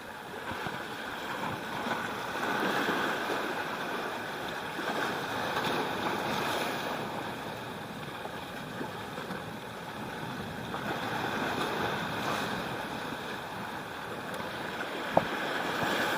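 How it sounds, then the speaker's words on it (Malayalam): Slightly rough sea on an evening fishing outing, a continuous wash of waves and wind at moderate distance, steady throughout with one small click near the end. "കടൽ ചെറുതായിട്ട് ഇളകുന്നുണ്ട്"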